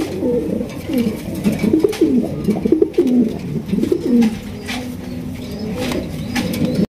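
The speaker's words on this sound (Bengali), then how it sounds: "এখানে রয়েছে চমৎকার এক জোড়া গড়া কবুতর" A pair of pigeons coos in repeated soft, low rolling calls, close and steady over a faint background hum, with a brief flutter of wings partway through.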